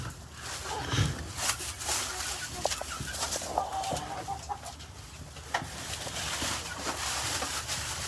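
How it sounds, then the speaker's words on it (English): Three backyard chickens clucking nearby, scattered soft clucks and calls over outdoor background noise, with people talking faintly. "Now we only have 3 chickens"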